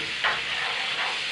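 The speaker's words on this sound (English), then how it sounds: "Yeah, that's sizzling away." Curry frying in a pan, a steady broadband sizzle with a brief louder burst near the start as food goes in, close and continuous with no talking.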